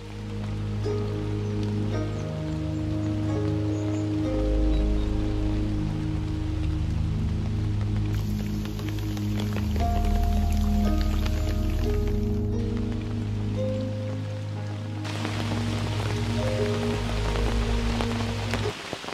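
Steady heavy rainfall at Amboli hissing continuously over a dense background of layered tones, with no pauses throughout.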